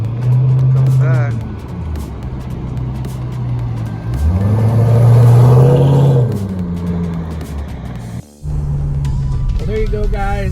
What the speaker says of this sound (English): There you go, guys, the SLP Loudmouth exhaust and the cold air intake, the air raid.